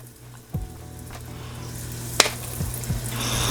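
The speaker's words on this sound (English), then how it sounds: "So we're just going to go ahead and put these down in the pan." Flour-battered shrimp go into a hot pan and burst into a sizzle that builds into a steady frying crackle, with a sharp clink of utensils partway through.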